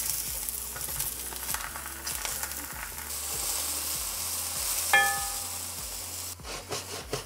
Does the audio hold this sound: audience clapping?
no